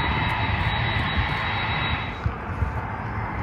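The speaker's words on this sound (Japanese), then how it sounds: "それでまたなんか次の大きい飛行機が今度は離陸するんだね" Large airplane taking off, its jet engines giving a loud continuous roar with a thin high whine, steady throughout and fairly close, heard outdoors by a river.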